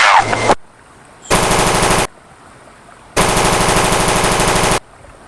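M4 assault rifle firing in a video game, two long, loud full-auto bursts of rapid crisp shots separated by silence, after a brief opening noise, close and without talking.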